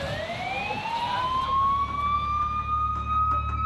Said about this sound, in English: The ambulance is coming and you'll go for a ride in the ambulance